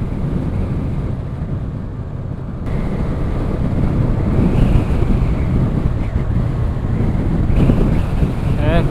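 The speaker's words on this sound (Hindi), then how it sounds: "हवा की आवाज़ बहुत ज़्यादा आ रही होगी" Strong, steady wind roars into the microphone in the treeless, high-altitude Spiti Valley near Tabo Monastery, a loud continuous buffeting that swells after a few seconds and stays heavy throughout.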